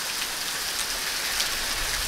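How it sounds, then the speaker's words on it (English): Heavy, steady hurricane rain pours in a constant, dense wash of hiss, loud and close, with no voices or thunder. "you got a consistent, like, whitewash type of rain"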